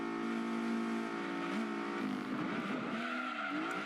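Race car in the video game Gran Turismo 2 sliding out of control, a sustained engine drone with skidding tire noise rising over it toward the end, loud and continuous without speech.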